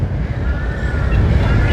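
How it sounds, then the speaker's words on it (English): Gusty wind buffets a new microphone outdoors in Rot Fai Park, Bangkok, a steady loud low rumble filling the whole moment with no break. "It's quite windy"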